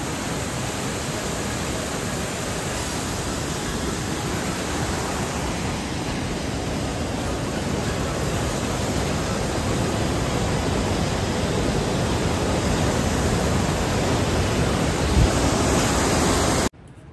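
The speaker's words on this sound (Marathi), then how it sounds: "पाण्याचा बहाव बघा. आवाज आहे का फक्त आवाज?" Rushing river water on the Kedarnath trek, a loud, steady broadband roar of fast-flowing water close by, unbroken throughout with no voices.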